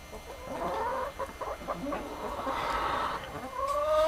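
A rooster clucks repeatedly at close range, a series of short throaty calls rising into a longer drawn-out note near the end.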